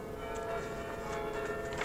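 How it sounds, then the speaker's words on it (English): Church bells of St Mary ringing steadily with sustained overlapping tones, filling the background at a moderate level with no talking. "sorry if those bells are swamping me out"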